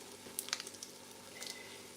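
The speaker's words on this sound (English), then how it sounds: "so now I will allow it to fry a little bit" Egusi frying in a pot gives off a faint, low sizzle, with a few soft crackles and pops near the start and again around the middle.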